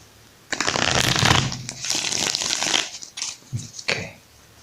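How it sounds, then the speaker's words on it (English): A tarot deck is shuffled by hand in close, crisp bursts: a long riffling run followed by several shorter flicks and taps of the cards. "Just one more shuffle."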